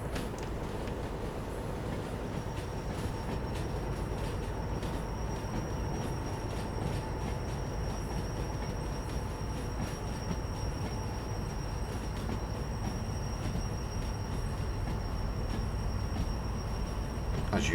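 A train runs through rain in the railway game Derail Valley, a steady rumble of rolling stock with a thin high whine laid on top and occasional faint clicks, continuous and evenly loud throughout.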